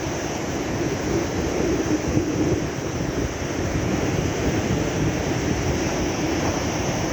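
Steady roar of sea surf washing onto Jiyeh Beach, Lebanon, continuous and fairly loud, with wind buffeting the microphone throughout.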